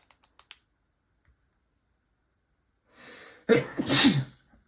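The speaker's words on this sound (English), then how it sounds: "I'm going to sneeze for a second here." A single loud, close sneeze, preceded by a sharp inhaled breath and a few faint clicks at the start.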